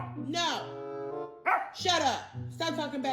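A dog barks and yips insistently indoors, loud and close in three strained bursts with whiny, voice-like tones, while a person speaks over it.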